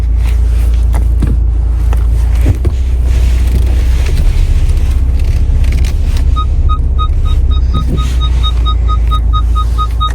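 Cabin of a 2020 VW Passat B8 with a 2.0 diesel engine driving on a test drive, a loud steady low road and engine rumble with wind noise, and a repeating electronic chime in the second half.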